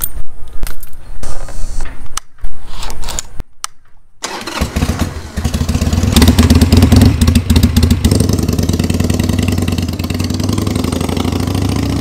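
A motorcycle engine cranks after a few clicks and handling noises, catches around four seconds in, and settles into a loud, steady close-up idle.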